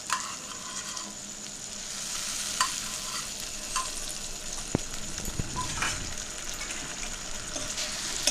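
Kashmiri chilli powder and curd stirred in a pan, a steady soft sizzle with scattered scraping strokes of the spoon and a few sharp clinks, close and continuous with no voices.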